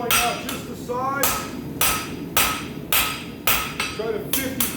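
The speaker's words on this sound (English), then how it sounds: "So I'll take a heavy ball peen hammer and I'll start drawing out just the sides." Heavy ball peen hammer striking hot steel at a forge while drawing out a weeping heart shape, eight or so loud, ringing blows in an uneven rhythm, each with a sharp metallic attack over a steady background hum.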